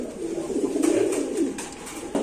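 Soft, low cooing from a pair of King pigeons murmurs steadily throughout, close by, with a few faint rustles and a brief louder bump near the end.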